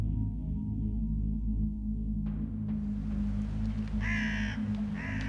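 Crows caw in a couple of short harsh bursts over a constant low background rumble, fairly close and loud.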